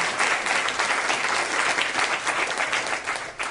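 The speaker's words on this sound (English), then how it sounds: "Let's give her a round of applause." Steady audience applause fills the room at an Oregon bill signing for paid family and medical leave, a dense wash of clapping that holds at even strength throughout, with no talk over it.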